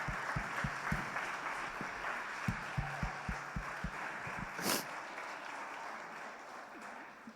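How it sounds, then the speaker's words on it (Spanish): A church congregation claps together, fairly soft and sustained, with a rhythmic low thumping under it and a short bright burst near the end. "dele un aplauso al Señor"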